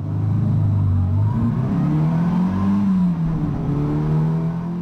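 A Mini race car at the Estoril circuit during a Mighty Mini trophy race at the 2018 Estoril Racing Festival revs loud and close, its engine note rising and dipping steadily throughout with no talk.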